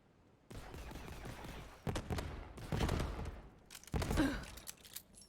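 Borderlands 3 gunfire fired from the hip, several rapid bursts of shots at moderate loudness separated by brief pauses, with game effects between them.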